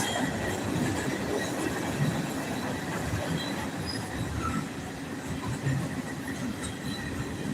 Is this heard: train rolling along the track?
yes